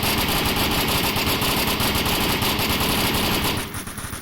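Dense, continuous automatic gunfire from the Onward video game rattles loudly and close for several seconds, then drops to a few fainter shots at the end.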